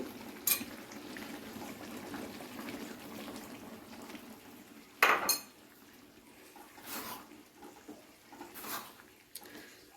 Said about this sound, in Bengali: তো বাকি যে মিশ্রণটি আছে সেটুকু আমি ঢেলে দিচ্ছি এর মধ্যে।